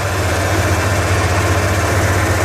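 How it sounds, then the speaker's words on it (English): A Ford engine idles steadily at close range, a loud, even low rumble with constant hum and vibration and no change in speed. "Engine's running."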